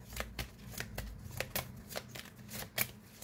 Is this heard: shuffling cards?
yes